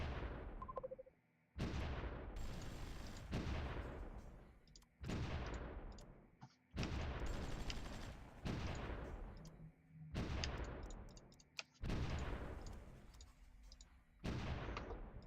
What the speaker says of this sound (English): Artillery is moving up.